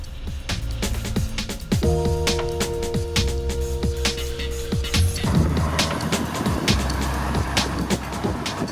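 A Volvo S60 Cross Country drives over a rough road, heard from inside the cabin as a steady low rumble broken by repeated thuds and knocks as the suspension meets bumps.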